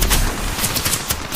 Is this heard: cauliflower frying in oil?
no